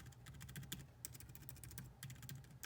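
Typing on the keyboard of a 2019 16-inch MacBook Pro, a steady run of quick, quiet key clicks at close range with no voices.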